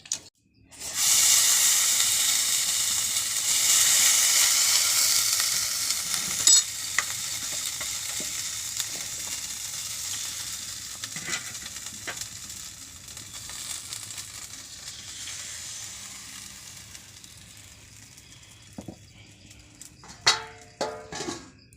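Pitha cakes puffing up as they fry in hot oil, a steady bright sizzle with occasional stirring and scraping clicks, loudest early and gradually fading into sparser crackles and taps near the end.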